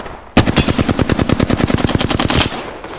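A rapid burst of automatic gunfire in the video game Apex Legends, about twenty evenly spaced loud shots in a tight rhythm, alone and up close.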